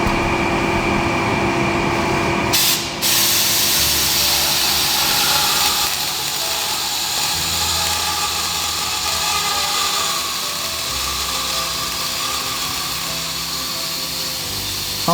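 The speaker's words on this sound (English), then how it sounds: "let's do some welding" Steady, loud crackling hiss of welding work on a Firefly tank restoration, continuous and close for most of the stretch with a brief break near the start and no talk.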